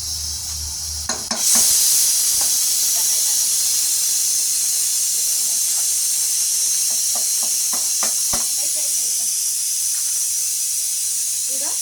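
Mashed potato mixture being stirred in a hot pan on a lit stove, a steady close hiss and sizzle running throughout with scattered scraping clicks of the spoon, after a brief quieter start.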